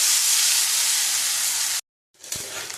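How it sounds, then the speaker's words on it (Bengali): Rice with whole garam masala spices and bay leaves frying in hot oil in a pan, a loud steady sizzling hiss that cuts off abruptly, then resumes with a clunk and softer sizzle. "চালটা দিয়ে কিন্তু ভালো করে ভাজতে হবে"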